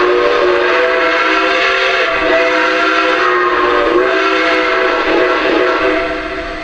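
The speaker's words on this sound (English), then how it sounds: "so here's the whistle" A Lionel Nickel Plate Road 2-8-4 model steam locomotive whistle blows in a long, steady chord, loud and close, fading slightly at the end.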